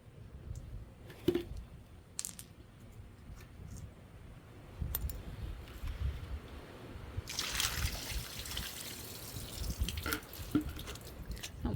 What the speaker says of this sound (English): The water is running pretty clear now